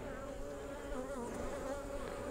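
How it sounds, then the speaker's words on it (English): Honeybees buzzing in a crowd around a queen inside an open hive during a winter prep inspection, a dense, steady droning hum with no pauses, close and continuous. "there's a lot of bees around her"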